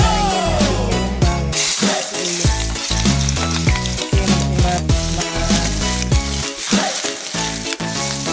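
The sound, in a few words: cooking oil sizzling in a pan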